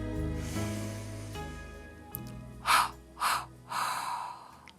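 Three deep, audible inhalations of a guided yoga breathing exercise for children, evenly spaced and close, rising over a soft, steady musical backing.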